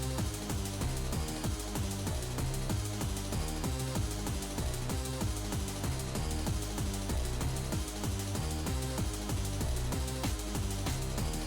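Dense layered FL Studio arrangement with piano among stacked instruments, a continuous loud wall of rhythmic beats and chords holding a steady level for the whole stretch without talk.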